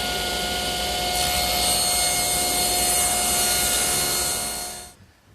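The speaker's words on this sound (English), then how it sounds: "Now I'll rip a piece off of each edge, which will yield the 1/4 round that I need" A table saw rips thin strips off both edges of routed wood molding to make quarter-round, a steady loud whining cut lasting about five seconds before spinning down abruptly.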